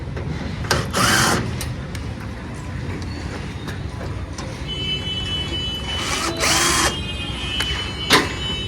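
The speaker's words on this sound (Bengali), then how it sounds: "এক হাতে ভিডিও করে এক হাতে ড্রিল চালিয়ে" A power drill whirs in several short bursts between quieter handling noises and clicks, close by, with no talking.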